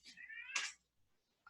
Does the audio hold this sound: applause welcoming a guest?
no